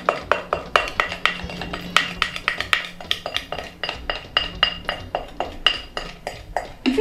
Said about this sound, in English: I'm going to bring my baking pan and transfer this contents into the baking pan, just scraping it all out